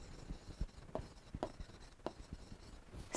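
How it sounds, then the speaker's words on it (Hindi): Pen or marker strokes on a writing surface, a series of short scratchy marks in an irregular rhythm, quiet and close. "यहां पे लिख दूं"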